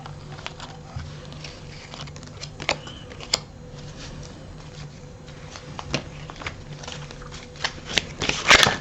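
Tarot cards being shuffled and dealt out in a reading for singles, a steady soft riffling patter over quiet room tone, with a few sharper snaps near the end as cards are laid down.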